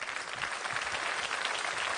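A comedy show audience in Italy applauding, a dense, steady wash of clapping that holds at an even level throughout without any speech.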